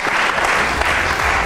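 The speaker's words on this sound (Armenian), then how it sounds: "Մեր հաղթող Զարային բարձր ծափարեք։" A hall audience claps loudly and densely for a contest winner, a continuous burst of applause heard up close.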